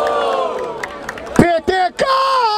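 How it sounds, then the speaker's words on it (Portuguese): Crowd at a Brazilian freestyle rap battle, Batalha da Aldeia in Barueri, erupts in loud cheering, whoops and shouts, with a voice yelling over the noisy audience in short bursts. "Aí, barulho para as rimas da Todd"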